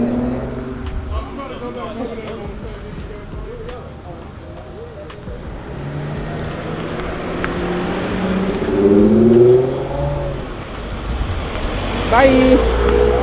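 A car spins donuts in a cars-and-coffee lot, its engine droning and rising in repeated revs with tyre noise, while people chat loudly nearby throughout.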